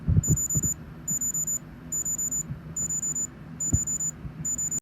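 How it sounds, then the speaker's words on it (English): The piezo beeper of an Amazfit Neo smartwatch sounds a steady run of short, shrill beeps in quick groups of three or four, evenly spaced over a low background hum with a few soft thumps. "the most annoying piezo beeper you could possibly imagine. And I'm going to insert a clip of that"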